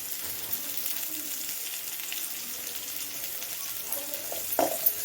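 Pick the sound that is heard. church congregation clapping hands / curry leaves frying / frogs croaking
curry leaves frying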